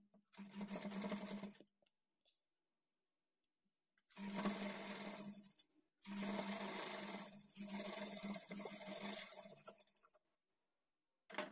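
A sewing machine stitches a lined blouse in three bursts of steady motor whirring with a rhythmic needle beat, separated by short silences while the fabric is folded double and repositioned.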